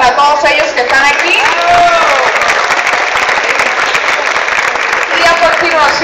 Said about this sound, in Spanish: un aplauso para todos ellos que están aquí